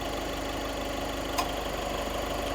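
A car engine idles steadily with a low, continuous rumble, broken only by one faint click partway through.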